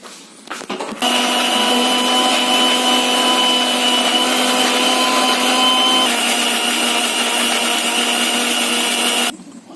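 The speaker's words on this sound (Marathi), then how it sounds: "मिक्सरला दळून घेऊ" A loud, steady mixer grinder whirs continuously for several seconds grinding coconut, garlic and coriander chutney, starting abruptly and cutting off at the end.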